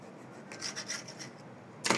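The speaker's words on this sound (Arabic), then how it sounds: "اقطع الكرواسون بتاعي من هنا" A knife saws open a croissant with soft, crisp rasping strokes, then a sharper, louder crunch near the end. No voices.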